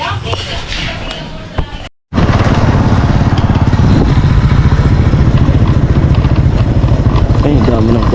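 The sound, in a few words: motorcycle engine running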